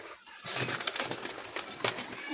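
Wild Jalali pigeons flap their wings close by in a sudden, fluttering burst that rises sharply and keeps rustling for about two seconds.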